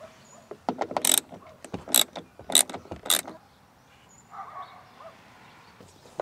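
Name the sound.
ratchet removing a 10mm seatbelt bolt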